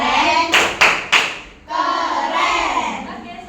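Children in a classroom doing the rhythmic tepuk keren clap: three sharp, loud claps in quick succession, then young voices chanting together.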